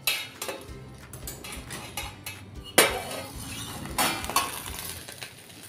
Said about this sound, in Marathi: आता आपण झाकण खोलून बघूया.